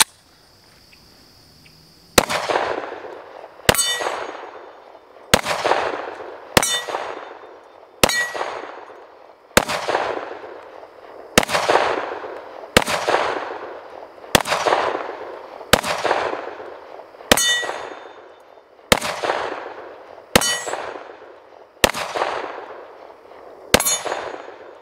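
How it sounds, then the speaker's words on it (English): Gunshots at an outdoor shooting range ring out about a dozen times, evenly spaced and loud. Each crack is followed by a bright metallic clang from steel targets that rings and fades between shots. "Just thought we would get out here on the range, do a little shooting"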